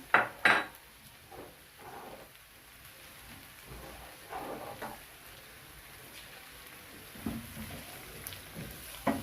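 Metal utensil scraping and clattering against a pan as cabbage and green pepper fried rice is stirred, a few sharp clinks at the start, then quieter intermittent scraping and knocks.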